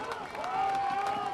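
A high school student section cheers at a Friday night football game, a short burst of distant crowd roar and clapping under a sustained tonal whine, with commentary voices mixed in.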